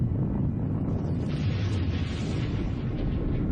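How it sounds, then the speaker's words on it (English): The Challenger space shuttle explodes in a deep, continuous roaring rumble that fills the clip loud and unbroken, with no voices over it. "The explosion blasts the shuttle free."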